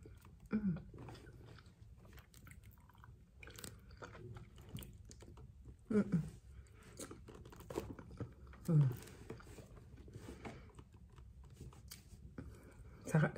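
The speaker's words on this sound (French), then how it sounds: "J'arrive même pas à le mâcher." Someone chews a sticky food that clings to the teeth, close wet mouth noises and soft crinkling of packaging, with bursts of speech in between.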